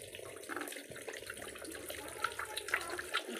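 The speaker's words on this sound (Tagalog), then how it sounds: "So lagyan natin ng suka." Vinegar pours onto fish for a Filipino danggit dish, a soft steady liquid trickle with faint clinks, quiet and close.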